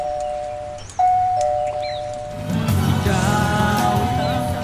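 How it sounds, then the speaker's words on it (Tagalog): A doorbell rings indoors with two clear electronic chime tones, followed by louder music and ambient sound swelling up behind. "May nagdo-doorbell."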